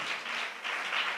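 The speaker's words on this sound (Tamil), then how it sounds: "நல்ல கைத்தட்டி ஆண்டவருக்கு நன்றி சொல்லுங்கள்." A church congregation claps together in thanks during a Tamil worship service, a brief, dense wash of applause heard alone.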